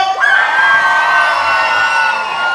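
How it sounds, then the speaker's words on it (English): At a holiday-camp science magic show in Pontins Southport, a room of children and audience members lets out a loud, sustained cheer of whoops and shrieks, close and continuous for a couple of seconds. "everyone at Steph's side of the room, give me a cheer!"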